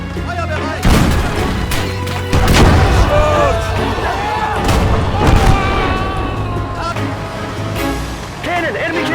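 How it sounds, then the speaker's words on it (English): Enemy cannon firing on a World War II battlefield: heavy booms and blasts with scattered gunfire, loud and close, while soldiers shout over the din. "Cannon! Enemy cannon!"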